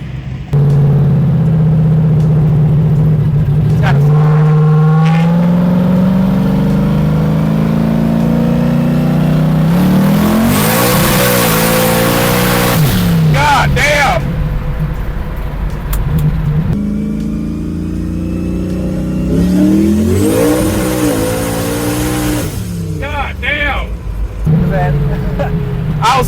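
A 1967 Ford Mustang engine revving hard, loud rising and falling rumbling sweeps repeated several times, with people talking between and over the revs.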